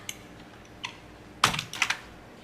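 Short bursts of keystrokes on a computer keyboard while setting up a Mailchimp merge-tag condition, a few isolated taps followed by a quick cluster of clicks, close and clear in a quiet room.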